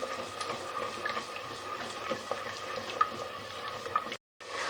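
Spiced masala frying in oil for Lahori chikkar cholay, a steady soft sizzle with faint stirring clicks throughout, close and continuous, briefly cutting out near the end.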